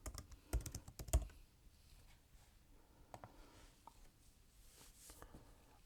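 Typing on a computer keyboard while setting up a Python Turtle program, a few close sharp key clicks near the start, then sparser, quieter taps scattered through a fairly quiet background.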